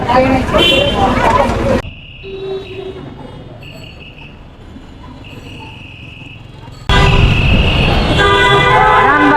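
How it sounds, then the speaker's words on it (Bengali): Car horns honk in a road traffic jam while riding through busy streets, with several toots sounding over loud traffic and engine noise and a quieter stretch in between. Voices can be heard faintly. "টুকটাক জ্যামের মধ্যে পড়ে গেছি"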